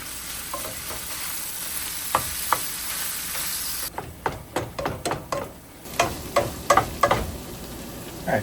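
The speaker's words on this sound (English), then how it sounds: "We're gonna start our Maid Rite sandwiches by browning some ground beef and some finely diced onions." Ground beef and finely diced onions brown in a pan for Maid Rite sandwiches, a steady close sizzle broken by repeated scraping strokes of a spatula stirring the meat.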